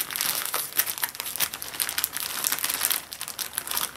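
Cardboard shipping package from China holding a GPD XD gamepad tablet, opened by hand: continuous close crinkling and rustling of packing material with brief tearing bursts, no talk.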